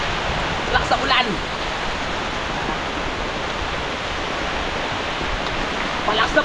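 Heavy rain pours outdoors in a loud, continuous hiss that stays steady throughout, with faint voices briefly audible near the start and end.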